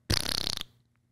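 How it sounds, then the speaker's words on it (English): A recorded fart sound played back from a phone, one loud sustained burst of about half a second with a rough, sputtering texture, followed by quiet room tone. "How about you select this fart?"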